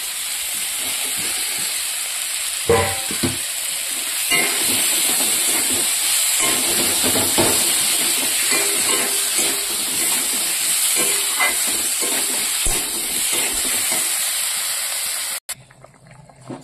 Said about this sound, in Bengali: তো ঝোলটা টকবকিয়ে ফুটছে।